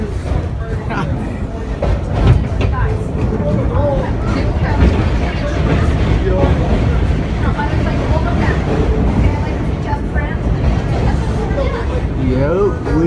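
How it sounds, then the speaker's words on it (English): A NYC subway B train running on the express track, with a loud, steady rumble and rattle of the cars and screeching wheel squeals, under chatter from nearby riders. "we on the B train express track right now, heading towards Kings Highway"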